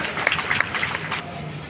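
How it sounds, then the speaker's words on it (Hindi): Audience at a party workers' rally in Pali Tanakhar, Chhattisgarh, clapping to welcome Raman Singh: dense, steady applause with crowd noise throughout, fairly close and loud. "जोरदार ताली बजाकर सम्मानीय रमन सिंह जी के स्वागत करिए।"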